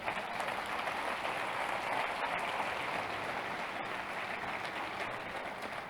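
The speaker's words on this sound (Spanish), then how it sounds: "Dale un aplauso al Señor por este día." A church congregation applauds during a sermon, a dense, steady wash of clapping that holds at an even level for about six seconds with no voices on top.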